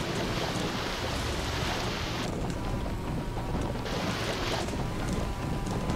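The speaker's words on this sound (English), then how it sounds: "Going through water deeper than my car, but let's keep going." An offroad car in a racing video game pushes through water deeper than itself, its exhaust submerged, giving a steady loud rushing, churning wash of water noise with no break.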